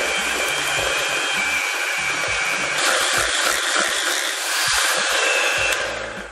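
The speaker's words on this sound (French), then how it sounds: "Reprenez votre batteur et allons-y!" An electric hand mixer whirs steadily while beating vanilla cupcake batter, a continuous loud motor drone with slight shifts in pitch as the beaters move through the mix, no talking.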